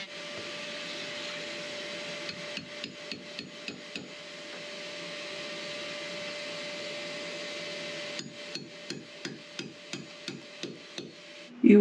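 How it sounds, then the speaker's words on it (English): A household hoover runs close by during engine removal work in an abandoned boat, a steady loud drone with bursts of sharp, evenly spaced knocks partway through and again near the end. "trying to hoover out all the smoke so he could see what he was doing."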